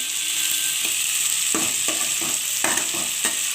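Khichuri with prawns and mutton fat sizzles while being sautéed, a bright continuous hiss punctuated by repeated scraping strokes of a spatula in the pan.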